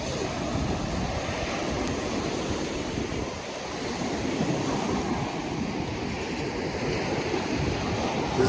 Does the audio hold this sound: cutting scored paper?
no